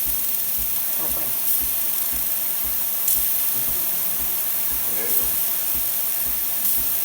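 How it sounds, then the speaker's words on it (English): A Breville espresso machine sends out a constant loud hiss of steam while its pump runs, with soft thuds and faint clicks underneath and a few brief sharper bursts. "You can hear the pump kicking on, and you can see the steam pressure increasing with time"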